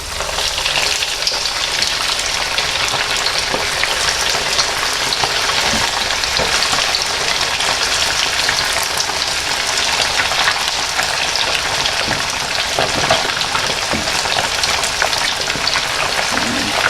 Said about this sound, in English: What we want to do now is we just want to fry these off gently in batches